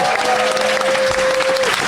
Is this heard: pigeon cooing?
no